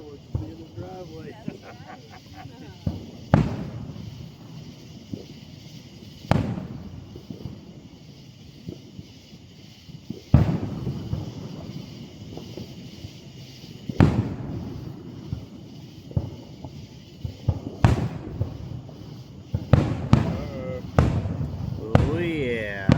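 Fourth of July fireworks burst over downtown Woodstock, Georgia, a series of sharp booms and crackling reports at irregular intervals, some in quick clusters, with people talking and wind rumbling on the microphone between blasts.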